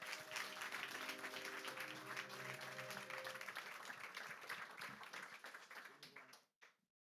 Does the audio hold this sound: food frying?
no